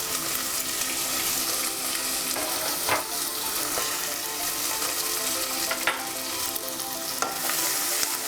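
Chopped onions, green chillies and curry leaves fry in a pan, making a steady close sizzle with occasional stirring scrapes and clicks, with no talk.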